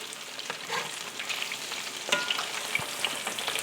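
Homemade Chick-fil-A-style chicken strips fry in a pan, a close crackling sizzle broken by a few sharp clinks and scrapes as they are flipped, with no talking.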